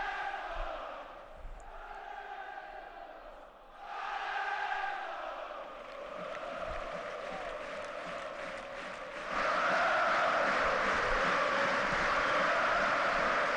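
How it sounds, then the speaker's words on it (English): A Belgian football crowd at a Standard Liège Champions League qualifier against Liverpool keeps up a steady roar of cheering and chanting, swelling louder toward the end. "the Belgian crowd here loving every minute of this game"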